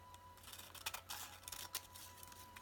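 Scissors trim backing paper for a papercut design, giving quiet, close snipping cuts in an irregular series of short crisp bursts over a faint steady hum.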